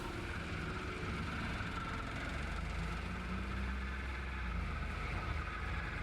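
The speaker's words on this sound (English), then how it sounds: "I just have to wait until the mower spools down." A lawn mower engine in a farming video game drones steadily at a low, even pitch, running continuously and alone without any talk.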